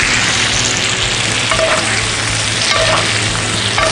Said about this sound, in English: Let's let it all cook so all the essential flavors can mix together.